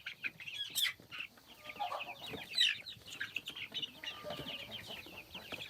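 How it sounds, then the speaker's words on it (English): Chickens in a backyard coop cluck and chatter continuously, several birds calling over one another at close range with sharper squawks standing out now and then. "Well, everybody's making noise. The chickens,"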